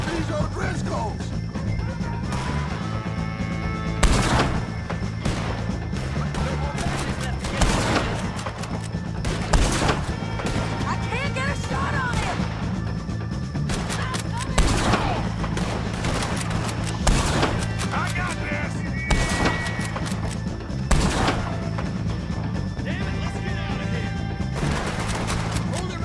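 Gunfire in the Red Dead Redemption 2 video game, repeated loud shots and bursts cracking out every few seconds over a busy game soundscape with music and background voices.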